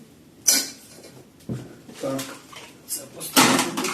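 Metal cookware, including a small frying pan, unpacked from an online-order parcel and handled: irregular clanks, knocks and rustling bumps at close range, alongside someone talking.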